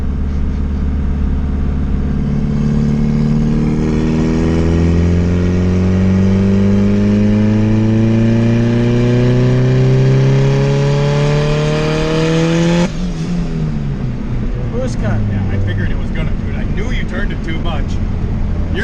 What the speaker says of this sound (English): we're just going to put it in third gear, give it a good floor right to the old wood